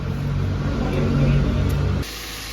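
A car engine idles steadily after being repaired, a low continuous rumble close by that cuts off abruptly near the end.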